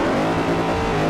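A car engine in Forza Horizon 4 holds a loud, steady roar throughout, racing engine drone with no speech over it.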